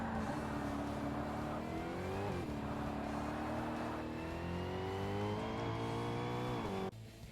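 Swedish supercar racing in Forza Motorsport, its engine a loud, continuous high-revving roar climbing through gears with shifting harmonics, close and dominant throughout before cutting off abruptly near the end.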